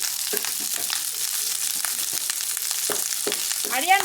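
Leftover cooked rice tossed into a pan with already-fried potatoes, frying with a steady crackling sizzle and occasional scraping stir strokes, close and continuous, with no talking.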